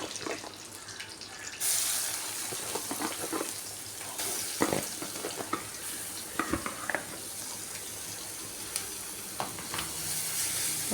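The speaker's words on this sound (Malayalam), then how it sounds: "സവാള ഇട്ട് കൊടുക്കാം." Sliced onions hiss and sizzle in hot oil with mustard seeds, curry leaves and dried red chillies in a pan for papaya thoran, a steady close frying sound broken by scattered clicks and stirring knocks.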